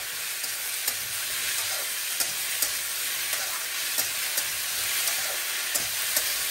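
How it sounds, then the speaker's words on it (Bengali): Raw cut potatoes, not fried first, are stirred into a sizzling pan of oil, with a steady frying hiss broken by regular sharp scrapes of the spoon about every half second. "এবার এতে আমি আলুগুলো দিয়ে দেব। আলুগুলো কিন্তু ভাজিনি, জাস্ট এরকম কেটে দিয়ে দিচ্ছি।"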